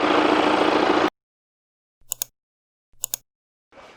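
A diesel engine in an Audi Q5 35 TDI quattro idles with a dense rumble for about a second, then cuts off sharply into silence broken by a few clicks.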